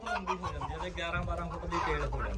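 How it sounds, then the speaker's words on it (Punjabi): Silver Phoenix chickens with long tails cluck and call close by among other fowl, a busy overlapping burst of short clucks lasting a couple of seconds. "ਦੇਖੋ ਬਈ ਸਿਲਵਰ ਫੀਨਿਕਸ ਮੁਰਗੇ ਨੇ"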